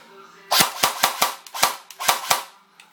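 A customised M16 stubby toy gun fires on single shot, about eight sharp, loud, close pops in quick irregular succession over a quiet background.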